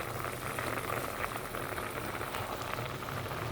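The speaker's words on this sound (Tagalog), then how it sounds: "malapit na maluto yung niluto kong paksiw" Paksiw na borot simmering in a pot, a continuous close bubbling and hiss, steady and dense throughout with no talking.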